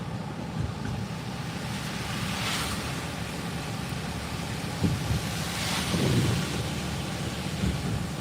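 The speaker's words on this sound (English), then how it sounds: "The ocean is right there." Steady surf of ocean waves at West Palm Beach, a continuous broadband wash with a couple of louder swells rolling in, wind noise mixed in throughout.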